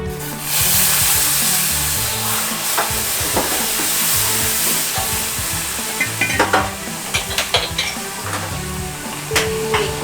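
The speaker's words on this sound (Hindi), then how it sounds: "थोड़ा थोड़ा दूध डालते जाइए।" Milk added little by little to a hot pan while making halwasan: loud, continuous sizzling and bubbling with spoon scraping and stirring clatter, close by, without speech.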